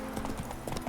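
Horse hooves trotting in The Witcher 3, a quick series of clip-clop hoofbeats, close and moderately loud over a faint ambient background.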